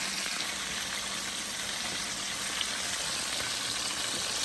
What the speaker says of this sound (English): We'll flash fry these and be right back